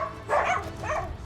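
A dog barks twice at a dog shelter in Antananarivo, Madagascar, two short moderate barks close by with no talk.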